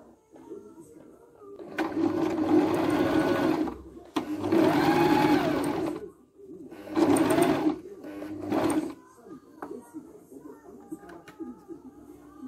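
A sewing machine stitches a 3D fabric face mask in four loud, close bursts of a few seconds each, separated by brief pauses, then quiet handling of the fabric.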